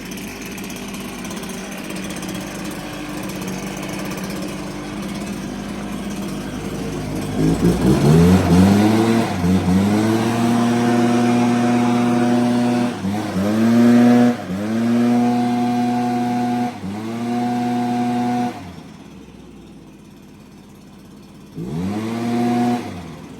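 A 63.3 cc two-stroke stratified charge backpack leaf blower engine idles, then roars up to a loud high-pitched whine, dropping and revving again several times, close and steady.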